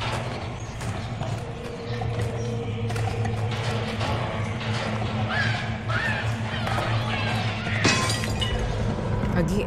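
Disguise shattering in Little Nightmares 2, a sharp breaking crash near the end over steady game ambience and thumping footsteps, with a person talking throughout.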